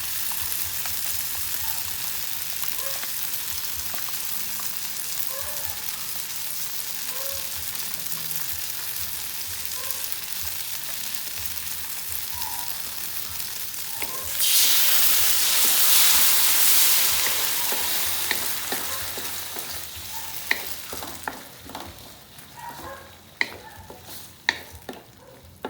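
Spaghetti sauce for baked macaroni sizzles in a pan as it is stirred, a steady frying hiss that flares loudly partway through, followed by scraping stirs and sharp clinks near the end.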